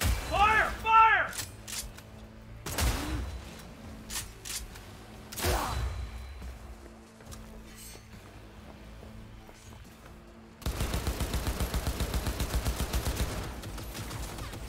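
Gunfire in a Cyberpunk 2077 firefight: scattered sharp shots and bursts spaced across the clip, then a rapid automatic volley rattling steadily near the end, with a voice talking in between.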